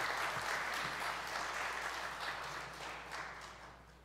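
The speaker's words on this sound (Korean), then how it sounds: "힘찬 박수로 환영하겠습니다." A forum audience applauds steadily for performers being welcomed onstage, a broad wash of many hands clapping at a distance in a hall, fading slightly toward the end.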